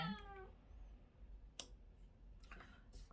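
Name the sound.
house cat meowing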